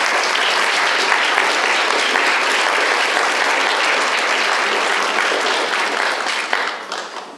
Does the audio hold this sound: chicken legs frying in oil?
no